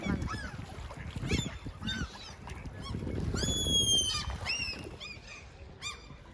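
Geese and ducks honk repeatedly in a noisy seaside town scene, overlapping nasal calls near and far, with a low rumble running underneath.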